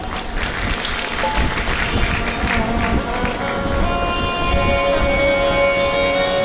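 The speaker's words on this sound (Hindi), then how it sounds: "ताली बजाओ।" An audience at a Hindi religious discourse on the Ram katha claps loudly and continuously for several seconds, a dense crowd of hands filling the hall, with faint voices mixed in.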